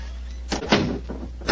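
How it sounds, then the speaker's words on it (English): A heavy door closes inside a monastery cell, a short thud with a latch clunk over a steady low hum, with no voices. "Please close the door behind us."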